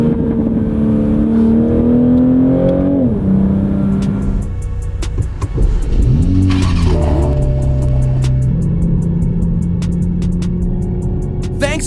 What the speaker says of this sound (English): the crackling does sound similar to other BMWs that I've driven